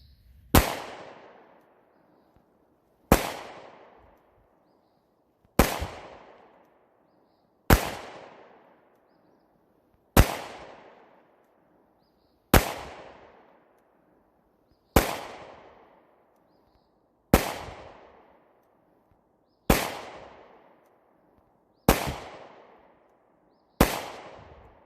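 Single pistol shots from a CZ P10S at a shooting session, eleven sharp loud reports fired at a slow, even pace about two seconds apart, each with a short decaying echo.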